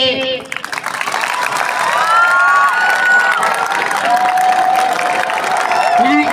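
A crowd at a Punjabi film team's visit to Tarn Taran Sahib claps and cheers loudly and steadily, with shouts and whistles mixed through the din.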